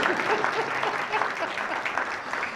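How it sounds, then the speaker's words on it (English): Dense, steady applause from a conference audience at an opening ceremony, loud and continuous, with the crowd clapping throughout and no voices standing out. "Can I get an applause right there?"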